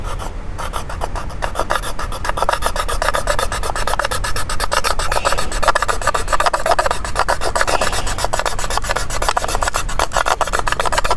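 A knife edge rasps steadily across bamboo to raise shavings for a bamboo fire saw, a continuous close scraping in fast repeated strokes, loud and alone without talk.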